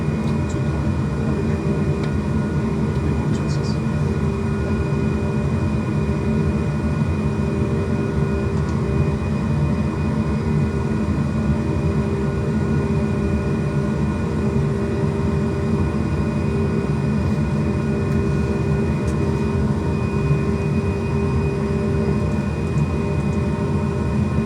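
Airliner jet engines roar as a steady, dense, low drone in a flight simulator game on the climb out of Nice, holding continuous and close with a faint tonal whine on top and no speech.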